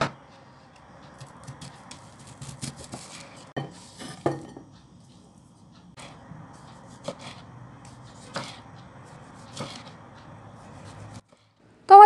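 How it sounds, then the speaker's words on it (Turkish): A knife slicing onions into rounds on a board while preparing an oven-baked sea bream with vegetables, giving irregular light taps and clinks in small clusters with quiet gaps between them. "Yine aynı şekilde soğanlarımı da yuvarlak yuvarlak doğruyorum."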